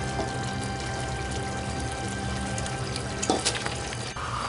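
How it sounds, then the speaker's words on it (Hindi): Rice goes into a pot of tender cooked meat for Hyderabadi tahari, giving a steady wet pouring and sizzling wash throughout, with a few brief clatters near the end. "अभी मैं इसमें राइस डाल दूँगी।"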